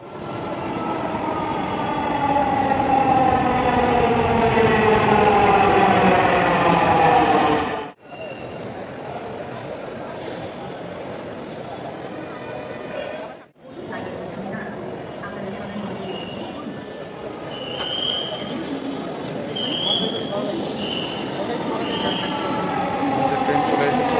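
A Dhaka metro rail train pulls into the station with a loud rising rumble and faint wheel squeal for several seconds, then settles into a quieter steady hum broken by brief gaps, with voices around.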